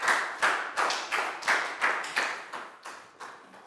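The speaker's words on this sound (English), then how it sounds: "a big round of applause for Down" A small class of primary school pupils claps for a student, several short bursts of hand clapping in an irregular rhythm, close and fairly quiet, fading toward the end.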